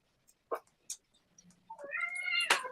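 A cat meows indoors: a few faint chirps and short calls first, then one longer, rising, drawn-out meow that swells and holds near the close, fairly close and clear.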